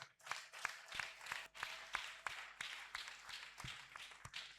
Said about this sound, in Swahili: Hebu tumchapie Yesu makofi ya nguvu.